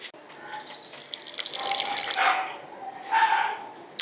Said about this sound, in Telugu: ఇప్పుడు పెరుగు కలిపేసిన తర్వాత నీళ్లు కలుపుతాను.